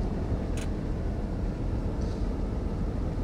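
Metro train running over tracks in Train Simulator, a steady low rumble filling the whole stretch with a brief high click early on and a faint squeal near the end.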